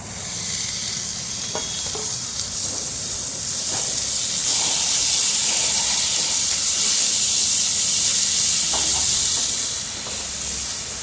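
Tomatoes tipped into spiced masala in a pan set off a loud, steady sizzle and hissing spray that swells midway, with faint stirring clinks and no talking.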